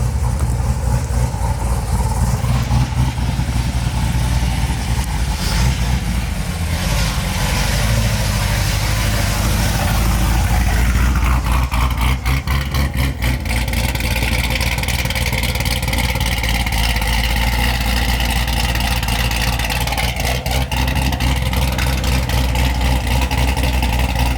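A cammed Chevrolet Corvette C7 Z06 with ported blower and ported heads idles with a loud, steady, lumpy low rumble, its revs swelling and dropping several times along the way, with no talking.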